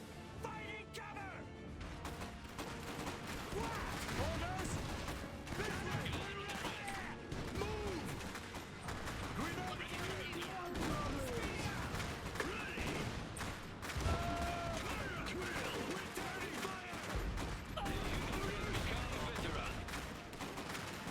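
Battle in the Iron Harvest real-time strategy game: dense crackling gunfire and bursts with heavier field gun blasts keep up without a break, while someone talks over the combat.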